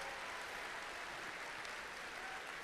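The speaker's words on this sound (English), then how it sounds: "Let's give them a huge round of applause." A crowd applauds the GE Aerospace team at the FIRST in Michigan State Championship, a broad, steady patter of clapping heard at a fair distance in a large arena, fairly faint and without talk on top.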